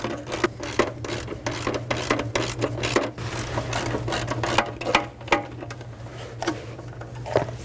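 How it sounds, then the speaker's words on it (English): A wrench works a 12mm bracket bolt loose on a 2010-2015 Lexus RX350 during an ignition coil job, giving a rapid run of close ratcheting clicks and scraping metal over a low steady hum. "Break this free and remove it."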